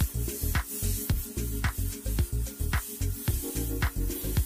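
An airbrush hisses in rapid short bursts, about two per second, as it lays dagger strokes for palm leaves in an ocean beach design, close and even over a faint compressor hum.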